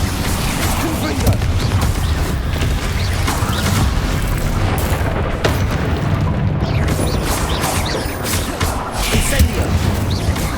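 Confringo blasting spells going off in Hogwarts Legacy, a dense barrage of loud booming blasts and crashes in quick succession amid a chaotic battle, with shouted voices mixed in.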